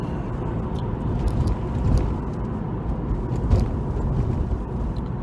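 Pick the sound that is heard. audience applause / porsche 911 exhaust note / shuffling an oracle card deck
porsche 911 exhaust note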